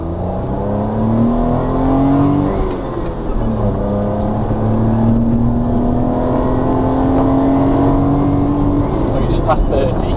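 A 1993 Suzuki Carry 4WD kei truck with a 660 engine pulls hard with the foot to the floor, its engine note climbing steadily in fourth gear. The drone is close, loud and continuous, with road and cabin noise underneath.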